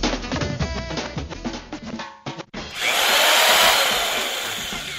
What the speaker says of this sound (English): Wait, is that a drill?